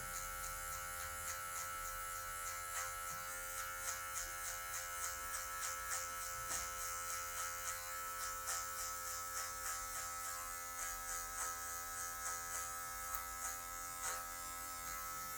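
Hair clippers buzz steadily and close during a fade haircut, with a constant electric hum and faint rhythmic strokes through the hair.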